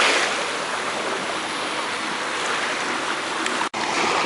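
Waves washing continuously onto an empty beach, a broad steady rushing surf close by with no voices, broken by a momentary dropout near the end.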